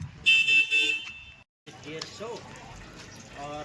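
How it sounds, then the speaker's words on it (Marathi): Vehicle horns toot in a stalled traffic jam on a mountain road between Yamunotri and Gangotri, loud beeps early on, then a brief silence and mixed engine and horn noise with voices talking. "परत एकदा ट्रॅफिक मध्ये अडकलोय मित्रांनो"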